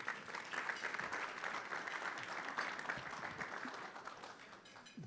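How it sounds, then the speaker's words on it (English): Audience applause for a speaker at a political forum event, a steady dense wash of clapping from a crowd that holds for about five seconds before tapering off at the end. "a round of applause for Rick"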